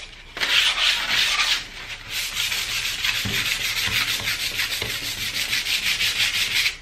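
Hand sanding of a wooden nightstand with 120-grit sandpaper ahead of repainting, a steady close scratchy rubbing in continuous back-and-forth strokes, loud and alone.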